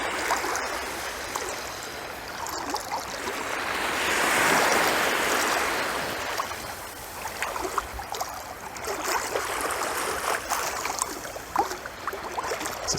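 Water washes and laps steadily at Corfu harbour, a continuous broad wash that swells and eases, with light outdoor background noise and no talk.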